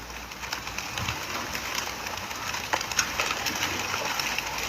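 Racing pigeons are released in Laoag, Ilocos Norte, a dense rustle of many wings flapping at once, like a soft crackling rain, steady and moderately loud.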